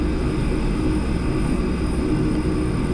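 A Douglas World Cruiser in a flight video game: a steady, loud, low propeller-engine drone holds unbroken throughout, with no talk over it.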